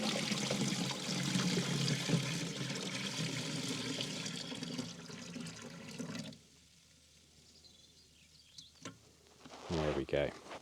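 Bordeaux mix solution poured into a garden sprayer, a steady close splashing gush for several seconds that stops abruptly, followed by quiet handling and a brief rattle.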